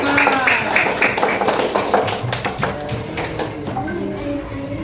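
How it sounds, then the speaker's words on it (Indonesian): A school class claps for group 4 after their poster is presented, with scattered, uneven claps over several seconds and children's voices talking underneath. "tepuk tangan untuk kelompok 4"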